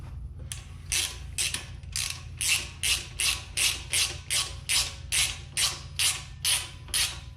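Stock BMW exhaust clamps are tightened on a BMW F900R motorcycle with a ratchet, about a dozen quick rhythmic clicking strokes close up, each a short burst of ratcheting, with no talk.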